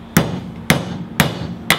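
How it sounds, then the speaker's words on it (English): Steel-handled titanium hammer driving a nail, four sharp metallic strikes at a steady half-second rhythm, loud and close with no talk. "when you hit a nail in normally"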